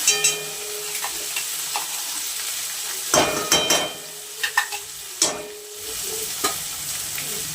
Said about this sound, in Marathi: आपण जी पेस्ट बनवून घेतलेली होती ती तेलामध्ये भाजून घ्यायचं व्यवस्थित